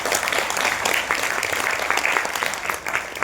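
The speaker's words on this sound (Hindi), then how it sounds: "बजाओ ताली अगर नियम मान्य है।" An audience claps together at a public awareness talk, a dense, steady burst of applause that fills the whole stretch at close range without letting up.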